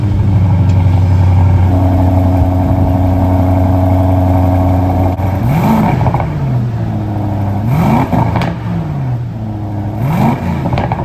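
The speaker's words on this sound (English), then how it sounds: "now let's listen to some revs of this exhaust" Exhaust of a 2021 Aston Martin DBX luxury SUV, idling close by with a steady drone before several sharp revs that rise and fall in quick succession.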